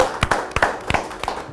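A few scattered hand claps from a small studio audience greeting a dangdut singer on a talk show, sparse and close, in quick uneven pairs with pauses between.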